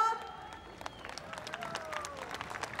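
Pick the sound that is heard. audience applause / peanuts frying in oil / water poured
audience applause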